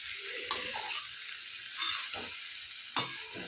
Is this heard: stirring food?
yes